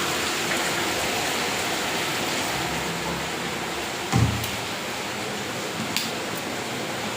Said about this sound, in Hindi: दिल्ली में हो रही है झमाझम बारिश, देख सकते हैं फ्रेंड्स।